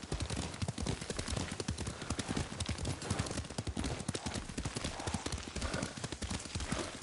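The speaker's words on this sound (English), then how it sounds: "Lord Sakai taught me to ride a horse." Horse hooves clop in quick, steady rhythm during riding in Ghost of Tsushima on PS5, a dense, continuous gallop mixed with game sounds.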